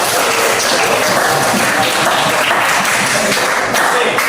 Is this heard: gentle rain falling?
no